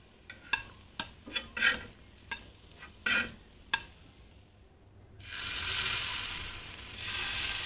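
Lentil vadas fry until brown, first a run of sharp scraping clicks from a utensil against the pan, then a steady frying hiss that swells in the final seconds.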